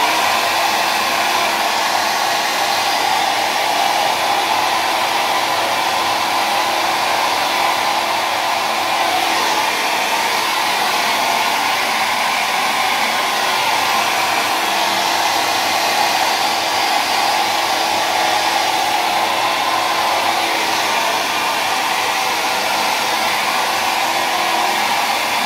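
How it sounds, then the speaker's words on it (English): Close, steady roar of a hair dryer blowing on short hair during final comb tweaks of a rockabilly pompadour, constant loud airflow lasting throughout without any speech. "We can also do some final tweaks with the comb as you blow dry again."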